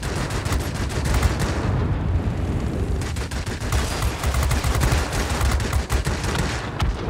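Rapid bursts of aircraft gunfire crackle continuously in the combat flight game World of Warplanes 2.0, dense automatic shots layered over a low rumbling engine roar, loud and relentless.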